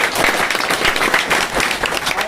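Loud applause from a crowd, dense clapping sustained throughout without pause.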